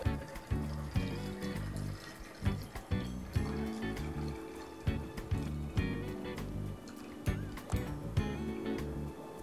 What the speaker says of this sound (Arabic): الحين راح نضيفه في الجيك اللي راح نقدم فيه، عبيناه بالثلج